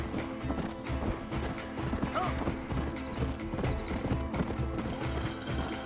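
Steady clip-clop of horse hooves in Red Dead Redemption, moving at a walking pace, with a short exclamation from a voice partway through.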